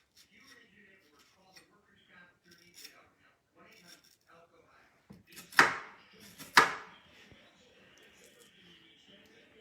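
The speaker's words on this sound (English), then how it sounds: "Parts with a little bit of skin, we'll cut those off and throw those away" A knife slices skin off an avocado on a cutting board while making a salad, two sharp close cuts standing out under soft talk and quiet kitchen handling.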